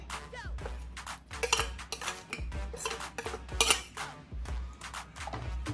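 A spoon scrapes and clinks against a metal pot as curry leaf juice and henna are stirred into coconut oil, giving repeated rhythmic strokes that are close and fairly quiet.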